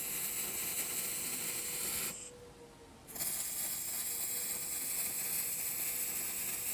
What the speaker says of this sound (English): Getting it all welded out now, using the HTP Pro Pulse